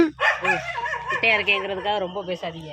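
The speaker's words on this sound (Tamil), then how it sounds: "அது பாருங்க ராஜபாளையத்து நாய் ஒன்று வருது" A Rajapalayam dog barks and yips in short, high bursts close by, mixed in with people talking throughout.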